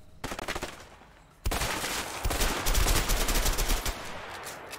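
Rapid bursts of video game gunfire in A Way Out crackle in quick succession, loud and close, with a dense rattling barrage after a short lull.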